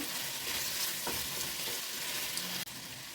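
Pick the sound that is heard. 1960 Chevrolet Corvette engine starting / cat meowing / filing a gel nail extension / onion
onion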